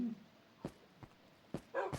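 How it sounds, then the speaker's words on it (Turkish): A dog in the video game Minecraft gives several short, sharp barks spaced irregularly, fairly close and clear, with a brief voice sound at the start. "Ne olur şu köpekten beni kurtar."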